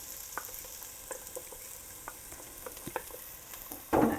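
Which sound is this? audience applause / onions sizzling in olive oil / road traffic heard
onions sizzling in olive oil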